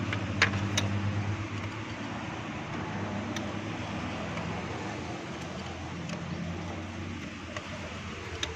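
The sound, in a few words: Mini Pajero car engine running with a misfire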